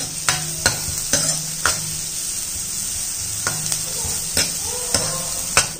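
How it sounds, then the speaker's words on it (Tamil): Finely chopped medium onion sizzles steadily in a hot pan, with a spoon scraping and stirring in sharp, repeated clacks close by. "இப்போ ஒரு வெங்காயம், மீடியமான வெங்காயம் பொடிசா நறுக்கிருக்கேன். இதை இதில் போட்டுக்குருவோம். இதை ஒரு வதக்கிடுவோம்."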